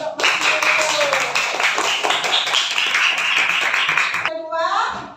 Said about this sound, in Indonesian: kasih aplaus yuk untuk Mas Yusuf